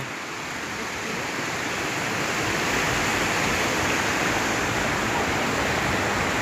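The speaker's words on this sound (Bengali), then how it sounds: "এই দেখো কি পরিমাণে জলটা যাচ্ছে" Floodwater rushes past the Deulghata bridge in a continuous broadband roar that builds slightly over the first seconds, then holds loud and steady, with no voices.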